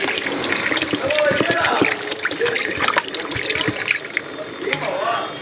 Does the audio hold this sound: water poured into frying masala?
yes